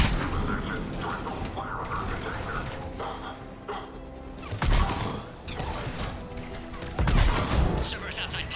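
Game gunfire at a besieged checkpoint in Mass Effect: dense, continuous shooting with sharp cracks and heavier booms near 4.7 and 7 seconds, set against mechanical game ambience and occasional voices.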